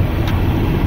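A car engine idles steadily after a throttle body spacer install, a continuous low rumble with the revs settling down and no talk over it.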